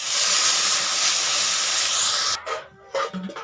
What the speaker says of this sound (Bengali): এরপর আমি জল ঢেলে দিব